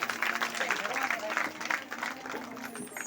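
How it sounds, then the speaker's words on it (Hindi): Audience at a Bhagwat Katha religious gathering clapping in welcome, a sustained wash of applause mixed with a voice speaking over it. "ताली बजाकर स्वागत करें।"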